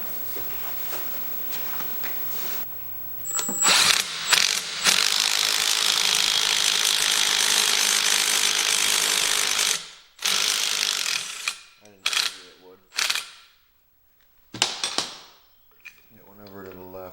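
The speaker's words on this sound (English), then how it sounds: "Then we'll grab a socket that size and a wrench to put on the nut back here." A socket wrench ratchets on a nut at the crank bolt of a 1974 John Deere 112 lawn tractor, giving a loud, sustained, close clicking run that breaks into short bursts of ratcheting toward the end.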